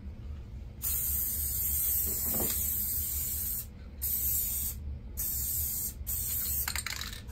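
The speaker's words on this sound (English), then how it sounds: "I kind of did a double layer on both ends to be sure that that was very well taken care of with the adhesive" Spray adhesive hisses from a can onto a fabric sheet being prepared for an inkjet printer, in several close bursts separated by short pauses.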